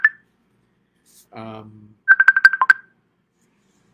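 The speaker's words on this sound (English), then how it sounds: "that was a phone call that I could not take because I'm about to read" A mobile phone's electronic ringtone chirps in a quick burst of bright beeps after a short tone, with a brief low murmur from a voice in between.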